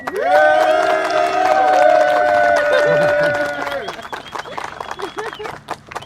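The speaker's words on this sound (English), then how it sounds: "let's give a big cheer for Mark and Maybelle." Wedding vow renewal ceremony audience in San Diego cheering and applauding loudly, sustained whoops and clapping from a crowd that fades into scattered claps and chatter.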